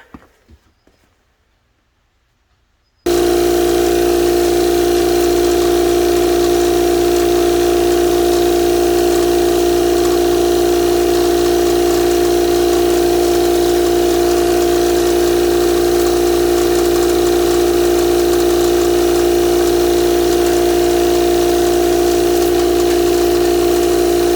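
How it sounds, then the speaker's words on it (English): Air is pumped into a bicycle inner tube while changing it on the wheel: after a few seconds of quiet handling noise, a loud, steady humming drone starts and holds unbroken to the end. "now what you do is you just pump your air into it."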